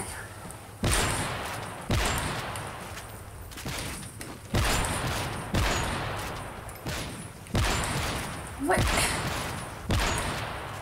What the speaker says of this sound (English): So many shots.